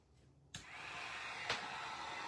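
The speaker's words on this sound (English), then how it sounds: "I'm going to hit it with a dryer real quick." A hair dryer drying paint on a wood slice ornament clicks on after a quiet moment and settles into a steady, close whirring blow, with a brief bump partway through.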